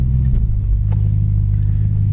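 A 1969 Plymouth Roadrunner's V8 idles with a loud, deep, steady rumble heard up close, its low throb unbroken and without any revving.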